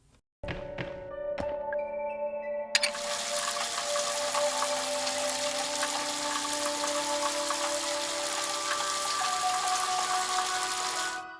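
Shower water runs steadily and loudly in the horror game Crow Country, a constant broadband hiss with a low hum that starts after a few clicks and sustains alone.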